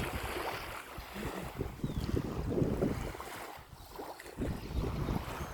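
Wind and waves at a beach, a continuous rushing wash with rolling surges and gusty buffeting across the whole stretch, no talk.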